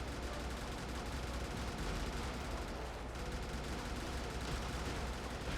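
Mech weapons in the video game Brigador, including an 84 and a 20 mm autocannon, fire as dense, constant gunfire and explosions in a continuous barrage.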